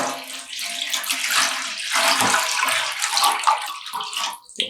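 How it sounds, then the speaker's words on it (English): Water poured into a container for dyeing non-superwash wool yarn at home, a continuous splashing, gurgling stream close by that stays steady and tapers briefly near the end. "We're going to add in the rest of the water."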